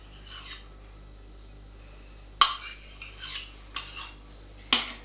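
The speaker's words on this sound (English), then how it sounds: "Stir the crème fraîche through" Crème fraîche stirred into pork in a slow cooker set to high: a few sharp clinks and scrapes of a spoon against the pot over a quiet background hum.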